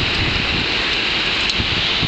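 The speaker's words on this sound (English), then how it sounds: "It's raining sideways." Wind-driven rain lashes sideways during Hurricane Irene in 2011, a loud, steady roar of rain and gusting wind hitting the microphone with no break.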